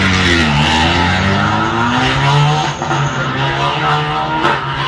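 A Renault Clio Rally3 rally car drives a stage, its engine rising and falling through the revs in a loud, continuous howl that pulls away into the distance.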